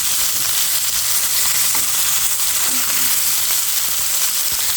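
Khorum fish frying in hot oil, coated with a little rice flour: a loud, dense, continuous sizzle that hisses steadily throughout, close up with no voices.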